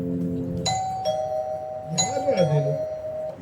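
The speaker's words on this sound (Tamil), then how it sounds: "காலிங் பெல் அடிச்சிட்டு இருக்கா" A doorbell chimes twice in a home, clear sustained tones ringing out over a low background hum with faint movement.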